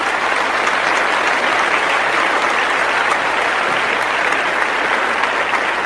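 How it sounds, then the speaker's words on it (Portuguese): A church congregation applauds in a dense, even wash of clapping that holds steady and loud throughout, with no break and no voice rising above it. "Um aplauso ao Senhor."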